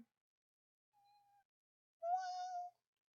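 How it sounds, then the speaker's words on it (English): A house cat gives two short meows in a quiet indoor room: a faint, thin first call, then a louder, fuller second one a moment later, with nothing else heard. "Are you just letting me know you're a cat?"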